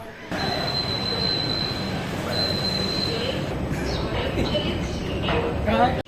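A Mumbai underground Metro Line 3 train at Dadar station rumbles and squeals steadily on its rails, loud and close in an enclosed space, with people talking underneath.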